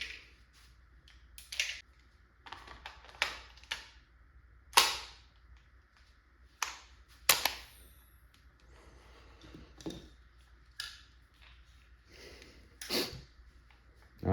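A First Strike FSC less-lethal launcher firing HP rounds gives several sharp, fairly faint cracks spaced seconds apart, with lighter mechanical clicks and handling noises between the shots.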